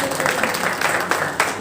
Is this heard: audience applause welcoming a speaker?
yes